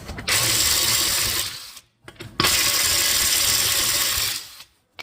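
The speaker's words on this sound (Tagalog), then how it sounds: "have the 21 socket on the wheel nut" Ratchet wrench with a 21 mm socket on a wheel nut of a 2005 Toyota Verso during a brake pad change, two sustained bursts of rapid close clicking separated by brief pauses, no talk.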